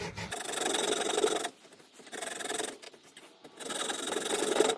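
A junior hacksaw cutting into a compression fitting olive on a leaking plumbing joint: three rasping strokes of metal sawing, each about a second long with short pauses between, close and clear with no talking.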